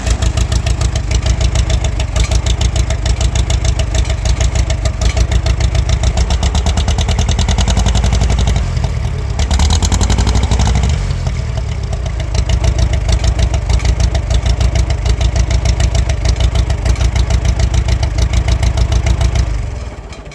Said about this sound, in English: It sounds like a doggone John Deere A.